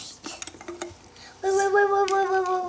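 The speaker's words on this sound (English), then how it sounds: "We forgot to stir it." A Learning Resources mini volcano toy mixture is stirred with a few quick, light clinks and scrapes, then a sustained tonal whine cuts in and holds to the end.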